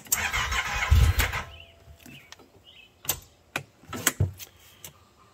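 A car starter with fuel injection cranks on a weak battery, a sputtering churn that fades, followed by scattered clicks and short tries as the engine fails to catch.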